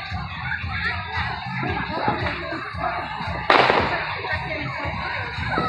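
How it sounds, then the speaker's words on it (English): Fireworks burst over a crowded park with one loud crack near the middle, rising above a constant rumble of crowd noise and nearby talk. "Coming out here to see the fireworks."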